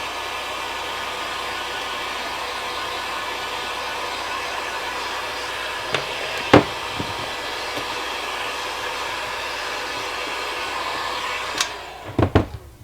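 A heat gun blows steadily while shrinking wrap over a custom RC battery pack for a TopRC L-39 Albatross model jet, a constant airy hiss with a few faint clicks and taps, ending in several sharp handling knocks.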